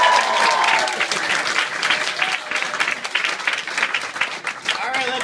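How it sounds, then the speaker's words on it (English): A lively crowd at a Halloween costume contest claps and cheers loudly and steadily, with shouts and whoops mixed into the sustained applause. "Just based on round of applause here"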